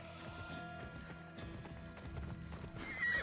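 Horse hooves clip-clop at a gallop in Assassin's Creed Odyssey, steady and close, with a whinny over dense game music and effects.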